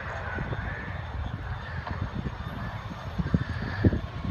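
An Avro Vulcan bomber on its last flight at RAF Cosford passes overhead with its undercarriage lowered, a steady, broad engine roar holding across the whole stretch, with a few faint knocks and crowd noise close by.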